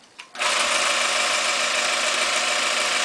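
A longarm quilting machine stitches through fabric and batting during free-motion quilting, starting up after a brief click and then running with a steady, close, even mechanical whir.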